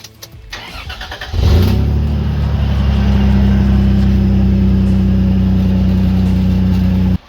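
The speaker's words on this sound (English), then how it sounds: "here's a video starting the car up with the old exhaust on that has a few holes" A car engine cranks briefly, then catches and settles into a loud, rough, throaty idle with a rattly exhaust that has several holes, close by.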